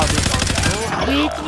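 Rapid automatic gunfire in the Call of Duty Modern Warfare video game, a loud burst of repeated shots that stops after about a second, followed by a brief ringing tone.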